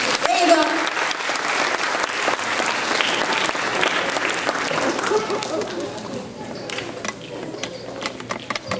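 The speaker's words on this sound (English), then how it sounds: "A little applause, come on." An audience at an evening music event applauds a performer being introduced, with a full crowd clapping from the start that gradually thins out and fades, while someone talks over it.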